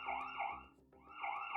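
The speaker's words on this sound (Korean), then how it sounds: "사이렌 터트려 주면서" A loud electronic siren from an IP security camera wailing up and down in a fast repeating sweep, briefly dipping before starting its cycle again, with no voices.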